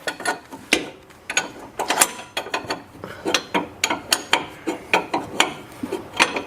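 A ratchet wrench loosens the self-locking nut on a Chrysler 300 front control arm, giving rapid bursts of clicking strokes in an uneven rhythm, close and loud, no talk.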